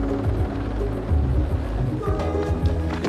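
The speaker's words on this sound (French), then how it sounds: "c'est l'hélicoptère qui relie aujourd'hui le cirque au monde extérieur" A helicopter flies over the mountains of a remote cirque on Réunion island in 1989, its rotor a loud, close, rhythmic low thudding with a droning engine that pulses steadily throughout.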